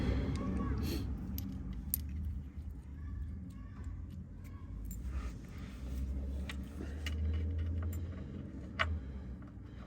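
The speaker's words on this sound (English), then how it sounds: "We're gonna go ahead and put the drain bolt back in with the new crush washer." Small metallic clicks and taps of an oil drain bolt and new crush washer being threaded back into a Porsche Macan oil pan, scattered light ticks up close over a low background rumble.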